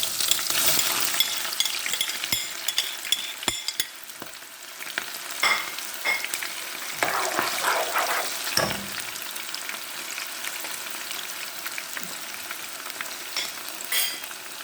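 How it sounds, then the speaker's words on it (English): Chopped onions hit hot red palm oil in a pot for Nigerian beans, setting off a loud, crackling fry with scraping stirs of a spoon, sustained and close, easing slightly before surging again. "It's hot now, so I'll just go ahead and add in my onions."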